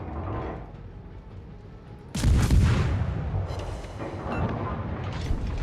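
Naval gun shells booming in World of Warships, a loud heavy blast after a steady low rumble of ship noise, followed by lingering rumbling echoes.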